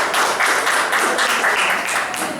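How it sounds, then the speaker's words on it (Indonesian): Seminar audience at an Indonesian motivational event breaking into steady, dense applause, a continuous wash of clapping from a large crowd with no voices heard. "tepuk tangan untuk manajemen momen Indonesia Pak Zaki"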